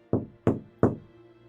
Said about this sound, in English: You hear a knock.